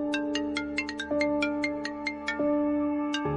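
A phone ringtone chimes for an incoming call, a bright repeating run of electronic notes over a steady sustained tone, playing alone and clearly with no voices.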